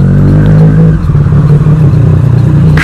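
A superbike engine roaring loudly and close while riding on the road, a steady throaty drone with a shift in pitch partway through and rumbling wind over it.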